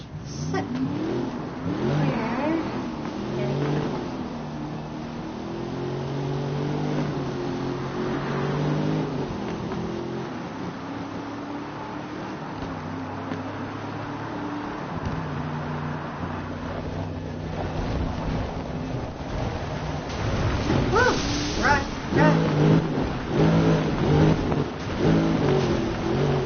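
Car engine in Need for Speed Rivals revving up and down in rising and falling sweeps, with gusty wind-like rushing underneath, growing louder and more aggressive toward the end.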